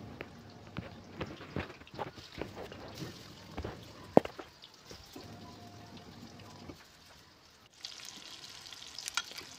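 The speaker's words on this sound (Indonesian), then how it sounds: "next ini aku goreng tahunya dulu sebelum dicampur sama terong." Tofu frying in hot oil in a home kitchen, a close crackling sizzle with spitting pops and occasional utensil knocks, fading quieter midway before the sizzle returns brighter.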